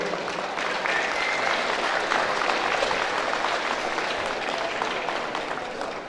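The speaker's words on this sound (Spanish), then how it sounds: "Quisiera esos fuertes aplausos para esas familias," Steady, dense applause from an audience at a community event in San Andrés Orizabita, honoring supporting families, sustained at even loudness for about six seconds without pause.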